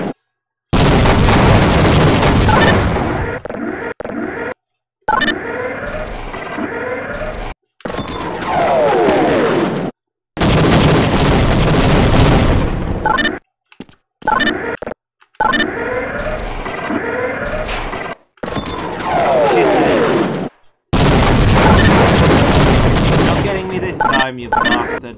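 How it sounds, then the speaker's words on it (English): Booming airstrike explosions and gunfire from the game Half-Life, loud bursts separated by abrupt silent cuts, with chaotic combat noise and shouting voices mixed in. "Repeat, we are pulling out and commencing airstrikes."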